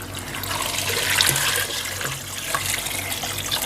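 Water pours steadily into a cooking pot of goat trotters (mutton paya) and salt, a continuous close splashing rush lasting a few seconds with no talking.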